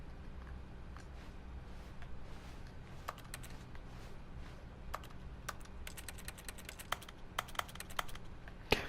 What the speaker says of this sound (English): Why does it sound like keystrokes? Like he's typing at a computer.